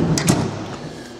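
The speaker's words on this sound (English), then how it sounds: "and they'll close their operator door" Operator door on an FC-250EX grinding machine sliding shut, a brief close clatter near the start that fades into steady machine-room hum; no voices.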